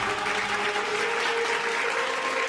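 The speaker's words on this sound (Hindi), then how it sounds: "एक बार ताली हो जाए उनके लिए।" A studio audience on a Hindi television quiz show claps for an eliminated contestant, giving dense continuous applause at an even level throughout, with a faint tonal hum running underneath.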